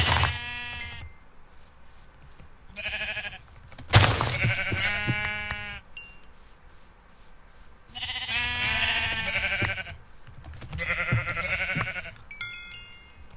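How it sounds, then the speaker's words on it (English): Minecraft sheep bleat in several separate nasal, wavering calls spread across the clip, some louder and closer than others, with soft game sounds between them and no talking. "More sheep again."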